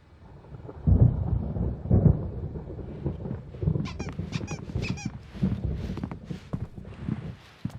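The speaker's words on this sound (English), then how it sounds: "There's a storm coming. Oh, what a storm." A thunderstorm rolls through the video game Alan Wake Remastered. Deep rumbles swell and crack in repeated bursts over steady rain and wind, loud and close, with no speech.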